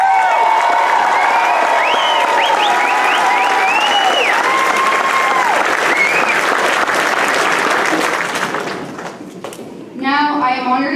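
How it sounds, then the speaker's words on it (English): A graduation ceremony audience breaks into loud, sustained applause mixed with scattered cheers and whoops, a crowd's clapping filling the space for several seconds before dipping, then voices and cheering pick up again near the end. "Give a strong round of applause"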